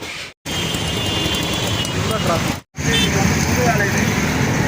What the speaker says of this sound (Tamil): இப்போ தான் டிராஃபிக்கே மூவ் ஆகுது.